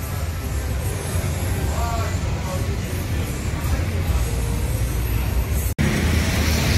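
Several idling tour bus engines at a depot, a steady low diesel rumble that fills the whole scene alongside faint voices, broken by one brief dropout near the end.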